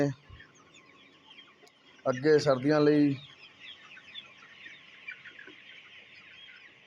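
A desi rooster clucks on a farm in short bursts mid-clip, fairly close, with a person speaking over it and a quiet background otherwise.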